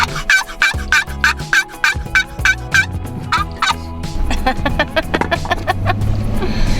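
Rapid bursts of wild turkey gobbling ring out repeatedly on Oregon mountain public land, with a vehicle engine rumbling nearby and growing louder.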